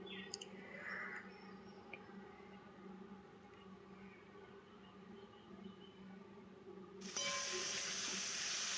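Shrimp frying in hot oil in a home kitchen: a faint low sizzle with a few soft clicks, then a sudden loud, bright, steady hiss of frying near the end.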